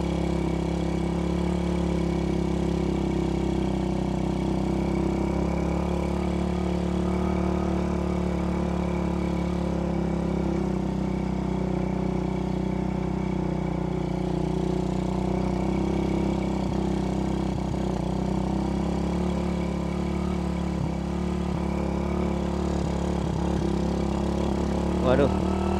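Motorcycle engine labouring steadily up an extreme steep climb on a makeshift bridge track over the Cigorek River, a loud continuous close drone throughout with speech over it.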